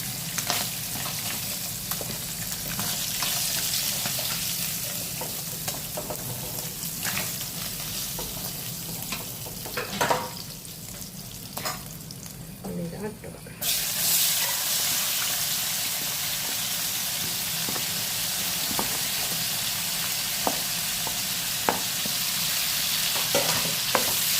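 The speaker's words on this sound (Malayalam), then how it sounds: "വെളിച്ചെണ്ണയിൽ ഈ ഓയിലിൽ തന്നെ നമുക്ക് ഉള്ളി വാട്ടിയെടുക്കാം. ഉള്ളി തക്കാളിയൊക്കെ വാട്ടിയെടുക്കാം" Onions and tomatoes sautéing in coconut oil in a home kitchen give a continuous crackling sizzle, close up, with intermittent clinks and scrapes of stirring; the frying grows brighter and louder partway through.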